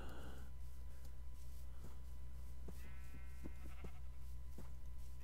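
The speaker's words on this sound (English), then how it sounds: "Let's see if we can kill some of these sheep." Sheep bleat in Minecraft, several short thin bleats scattered over a constant game hum and background drone, moderately faint with no talking.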